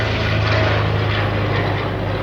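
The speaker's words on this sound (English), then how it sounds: "either helicopter or plane, I don't know which one, but it's the ones for the fires." A firefighting aircraft, either a helicopter or a plane, flies over on a very hot day, with a loud, steady engine drone that holds without a break.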